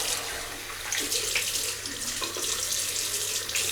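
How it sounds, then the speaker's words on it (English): Water pours from a tap into a bathroom sink while a face is rinsed after shaving, a close, steady splashing flow filling the whole short stretch with no talk. "and we'll just rinse the face"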